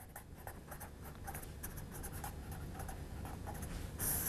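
Writing on a board during a college algebra lecture, a steady scratchy stroking sound, close and continuous, over a low room hum.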